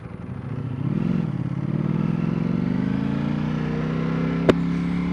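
An Aprilia RSV4 RF or Ducati Panigale V4S superbike engine on a race track, warmed up in race mode, holds a steady loud drone with a rising pitch, and a single sharp click cuts through near the end.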